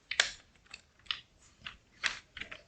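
Several separate keystrokes on a computer keyboard as numbers are entered, sharp close clicks spaced irregularly with short pauses between them, in a quiet room.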